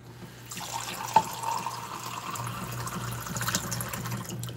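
Water runs from a kitchen tap into a container in a steady, soft stream, with a brief clink near the start and no talking.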